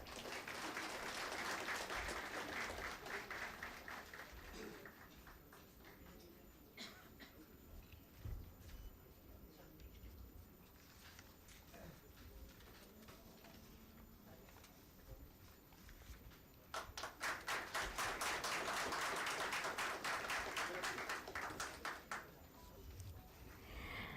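Audience applause fills a stock-exchange listing ceremony for Tridhya Tech Limited, loud and sustained at the start, easing to scattered clapping with background chatter, then surging again into a full burst near the end.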